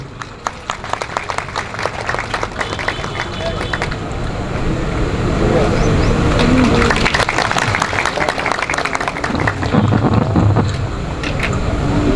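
Sustained applause from a seated audience at an employees' gathering in Lucknow, welcoming a guest being garlanded, a dense loud wash of many hands clapping that swells and holds for several seconds, with wind-like rumble on the microphone.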